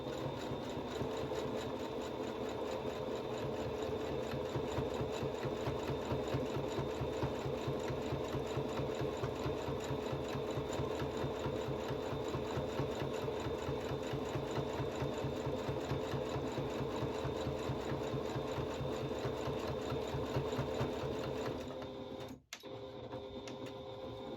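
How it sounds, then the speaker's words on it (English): A sewing machine runs steadily for over twenty seconds, stitching across the bottom edge of a fabric face mask with a fast, even mechanical whir, then briefly stops near the end before resuming. "And now I'm sewing across the bottom."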